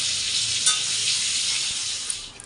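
Pointed gourd (potol) slices fry in hot oil in a pan, giving a steady close sizzle with a few light stirring clinks, no voices.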